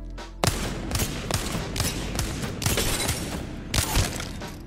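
Heavy Wingman pistol shots in the Apex Legends firing range, single booming reports fired at an unhurried, fairly regular pace, loud and close with a dense crack on each shot.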